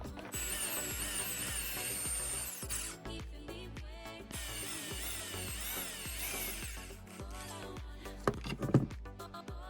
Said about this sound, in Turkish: Bunun için şu iki noktadan delik açıyorum.